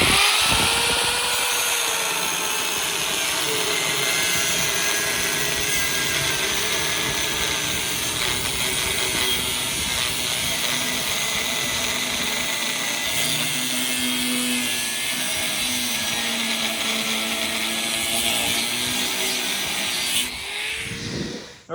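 A power tool cuts steel brackets for a gas tank and frame extension on a 1983 C30 crew cab truck, a steady grinding whine running without a break for about twenty seconds before it cuts off at the end.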